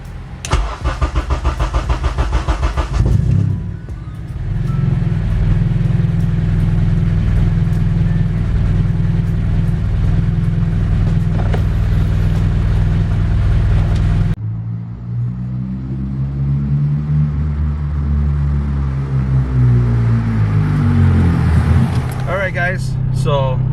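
A 2001-2005 Honda Civic cranks and starts, then settles into a close, steady idle rumble while warming up, with a shift in tone partway through and people talking nearby.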